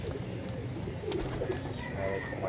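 Soft pigeon cooing repeats through a steady bed of low rumbling background noise, with a few faint higher chirps mixed in.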